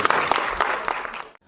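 An audience at a theatre festival applauds after a play. The brief burst of crowd clapping is moderately loud and fades out quickly.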